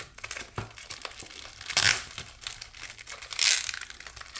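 Plastic packaging and tape crinkle and tear as a TWOSUN TS228 knife is unwrapped, close and fairly loud, with a steady rustle broken by two louder crinkling bursts and no talking.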